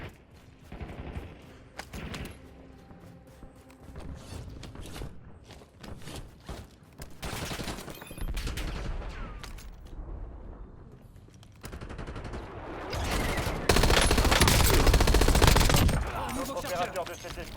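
Automatic weapon fire in the video game Warzone, with repeated bursts of shots, loud and close, plus heavier volleys near the end and a little game chatter in between.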